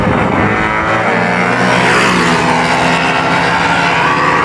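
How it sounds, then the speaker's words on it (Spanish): Racing motorcycles with CG 200cc engines running together at a race start: loud, continuous, close engine roar with rising revs and a buzzing harmonic whine, no voices. "Arrancar los motores, mi gente."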